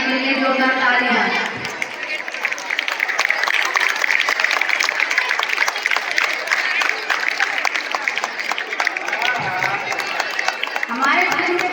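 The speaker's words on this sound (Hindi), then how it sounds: "बड़ाना जी के लिए जोरदार तालियां।" A school audience at an annual function gives the arriving chief guest a long burst of dense, loud applause, with a voice heard briefly at the start and again near the end.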